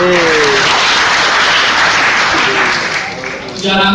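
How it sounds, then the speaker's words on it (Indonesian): Audience at a stand-up comedy show in Banda Aceh clapping and cheering loudly, a dense wash of applause mixed with voices and shouts that thins briefly near the end before swelling again. "Sebelumnya tepuk tangan buat Kak Kicur."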